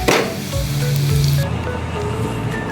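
Chicken nuggets fry in hot oil, producing a loud, continuous sizzling hiss with a faint underlying hum, fairly close and steady throughout.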